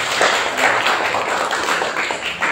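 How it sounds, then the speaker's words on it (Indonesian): A classroom of students claps for a classmate who answered a question about Umar bin Khattab, a brief burst of scattered, fairly quiet handclaps. "Berikan tepuk tangan untuk Mas Aryo"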